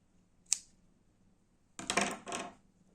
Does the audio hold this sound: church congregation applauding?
no